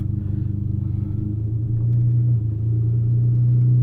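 A Ferrari 599 engine rumbling as the car pulls away, a deep, steady, loud low drone close by that builds slightly as it starts driving.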